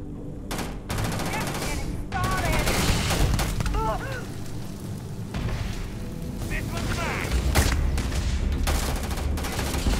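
Gunfire in the space game Starfield: repeated bursts of shots crack and boom across the scene, mixed with explosive rumbles and voices talking over the top.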